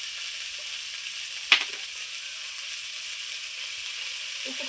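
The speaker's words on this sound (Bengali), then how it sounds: "এই দেখুন পটলটা খুব সুন্দর করে আমি ভেজে নিচ্ছি।" Pointed gourd (potol) fries in oil in a pan, a steady hiss of sizzling throughout with one brief knock of a utensil partway through and a soft stir near the end.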